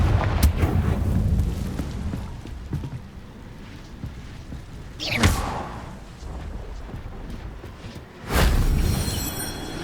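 In Hogwarts Legacy, Confringo fire spells explode in two loud, booming blasts a few seconds apart over a rumbling game background.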